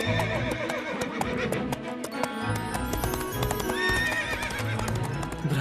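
A cartoon horse gallops with quick, steady clip-clop hoofbeats and whinnies partway through, all set under busy background music with no speech.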